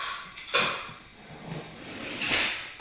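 Dishes and cutlery clatter as they are cleared from a table at home, two sharp bursts of clinking metal and crockery with quieter rattles and handling between, close by and without voices.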